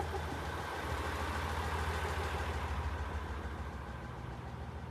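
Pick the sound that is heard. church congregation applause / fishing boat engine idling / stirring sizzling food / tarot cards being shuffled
fishing boat engine idling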